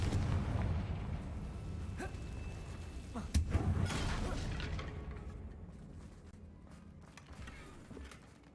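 A Confringo blasting spell explodes in Hogwarts Legacy, a rumbling, crackling blast with a sharp burst partway through, then a long low roar fading away.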